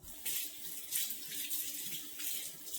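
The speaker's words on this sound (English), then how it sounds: "I'll rinse it off real good." A whisk rinsed under a running kitchen tap, water splashing steadily in a sink with rhythmic surges as the whisk moves through the stream, close and without speech.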